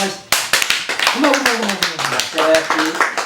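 People clap their hands in a quick, uneven rhythm, close and fairly loud, while a voice talks and sings along over the claps.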